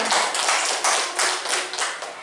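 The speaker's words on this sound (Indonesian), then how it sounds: "Tepuk tangan buat Bu Solihah" A classroom group claps for Bu Solihah, brief lively applause of several quick bursts, fairly close and with no talking.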